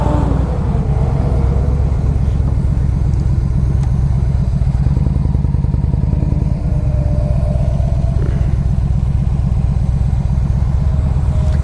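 A 2007 Yamaha V Star 1300 cruiser motorcycle is ridden, its engine a loud, close, steady low rumble with a rhythmic pulsing throb that rises and falls as it accelerates, with wind noise over the top.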